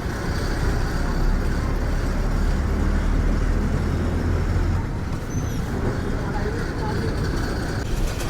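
Continuous road traffic on a busy circle in Vijayawada, heard from inside a moving bus, with a steady engine rumble and road noise and a brief high horn-like tone.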